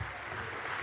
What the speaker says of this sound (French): applaudissements sur tous les bancs